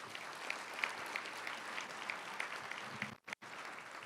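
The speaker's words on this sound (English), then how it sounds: "please give them a round of applause" Audience at a community outlook breakfast gives steady, moderately loud applause with many hands clapping at once, continuing for about three seconds before a brief break and then resuming.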